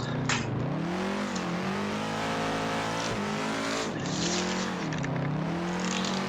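A Mustang drift car in a racing video game revs hard with loud wavering engine tones and tire squeal as it slides and spins out on a banked track, steady and close throughout.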